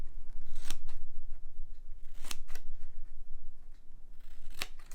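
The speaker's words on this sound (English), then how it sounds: "I'm going to use my other scissors here, some very deep" Three crisp scissor snips cut through cardboard at uneven intervals, each a sharp close-up crunch over a quiet background hum.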